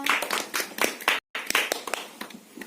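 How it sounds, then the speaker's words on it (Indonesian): Students clapping in a junior high classroom, a short burst of uneven hand claps from a small group, broken by a brief silence, then scattered claps tapering off. "tepuk tangan untuk kalian semua"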